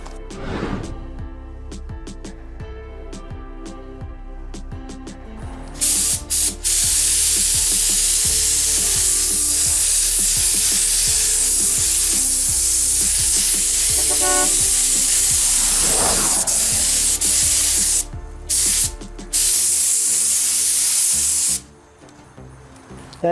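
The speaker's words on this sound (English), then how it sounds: "now we're ready to start spraying paint." A spray gun painting a car hisses in long, loud continuous bursts after a quieter stretch of background noise, cutting off briefly a few times.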